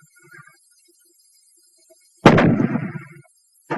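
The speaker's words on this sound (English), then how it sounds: "The fragmentation grenade." A fragmentation grenade bursts in one sharp, loud blast with a short rumbling tail after near silence, recorded for a 1943 wartime infantry weapons film.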